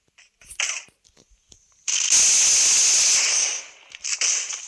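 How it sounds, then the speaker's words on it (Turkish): Gunfire from an Uzi in the video game PUBG: a sustained, loud burst of rapid shots lasting over a second, framed by shorter scattered pops and bursts before and after. "Adamda Uzi var. Rahat ol."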